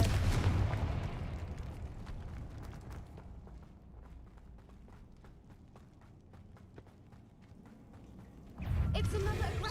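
Confringo blast spells in the Hogwarts Legacy video game land as loud, punchy bursts at the start and again near the end, with quieter footsteps and low rumbling ambience in between.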